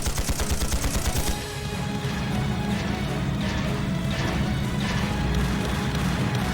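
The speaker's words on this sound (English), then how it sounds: "Units fire, don't let them get any closer." Gunfire from units in Trails of Cold Steel 2 rattles in rapid bursts at first, then gives way to a dense roar of continued shooting and crashing impacts, loud and close.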